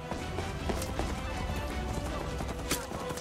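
Horse hooves clip-clop in a video game set in an abandoned prison, a steady run of hoof beats mixed into game noise.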